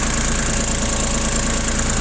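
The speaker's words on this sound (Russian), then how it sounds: "Трактор действительно работает достаточно ровно, без проблем." Shibaura SD2043 Japanese compact tractor with front loader and half cab, diesel engine idling close up, a steady even chugging rumble with regular knocking pulses and no talk.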